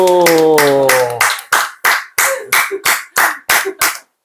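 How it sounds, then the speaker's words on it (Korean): A small group in a family counseling session claps in about ten sharp, rhythmic beats close by. The claps follow a brief tonal sound at the start. "어, 박수!"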